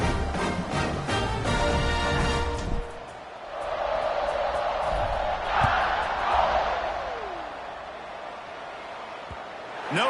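A college football stadium crowd roars before a kickoff in an Alabama versus Kentucky game, a broad sustained swell of cheering that rises and falls over several seconds, heard from a distance after a brief burst of band-like tones.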